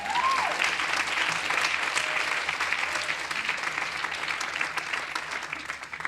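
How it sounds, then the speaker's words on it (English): An audience in a lecture hall applauds a colleague named Jim, steady broad clapping from the crowd filling several seconds at an even level with no talk over it. "you should give an applause to Jim for"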